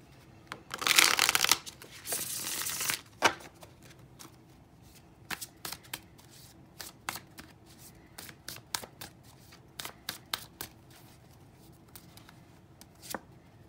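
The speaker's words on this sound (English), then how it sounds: "Get these real good and shuffled." A deck of oracle cards is shuffled by hand: two dense riffling bursts at the start, then a long run of sharp, irregular taps and snaps as the cards are squared and cut, close and fairly quiet.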